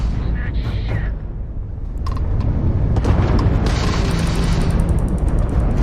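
In the space combat game Starfield, an enemy Crimson Fleet ship's weapons fire, with a dense rumbling boom, scattered sharp cracks and continuous low roar. A voice talks over the loud battle noise.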